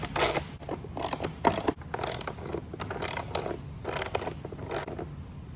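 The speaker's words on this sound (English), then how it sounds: "the tools that I'm gonna be using for this is a 3/8 drive ratchet with a 14mm socket on it" A 3/8 drive ratchet with a 14mm socket tightens bolts on a JEGS 2-in-1 creeper, producing bursts of rapid pawl clicking in repeated strokes with brief pauses, close and clear, with no talking.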